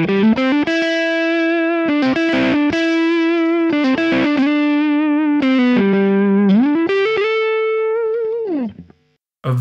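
Electric guitar with three pickups in parallel, Lace Sensor Gold HSS on a Sire S7 with a 10-way switch: sustained notes and chords with a bright, glassy, even tone, played continuously with slight shimmer before fading out at the end.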